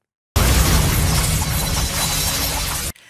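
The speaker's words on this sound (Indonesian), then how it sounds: "hujan pedang yang dikendalikan Teng Li memicu ledakan besar yang meluluh lantakan sejumlah bangunan." A big explosion roars out suddenly and loudly, a sustained crashing blast with rumbling debris that cuts off abruptly after a few seconds.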